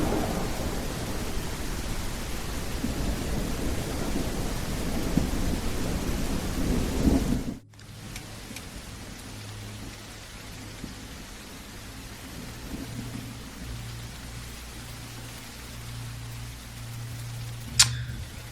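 A thunderstorm with rain in The Isle Evrima game rumbles as dense, loud rain and a heavy thunder roll that cut off abruptly into quieter low ambience, with a single sharp crack near the end.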